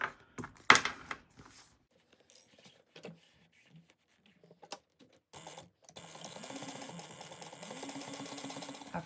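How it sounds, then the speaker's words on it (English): A sewing machine stitches a strap onto a backpack, starting after a few quiet clicks and handling noises and then running steadily and softly near the end. "we're just going to sew that at 1/8 of an inch."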